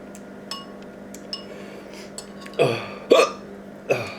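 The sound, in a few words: hiccups after eating spicy Samyang noodles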